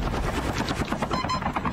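A chopper in Call of Duty Mobile thrums with rapid rotor pulses under bursts of game gunfire, steady and loud across a short stretch.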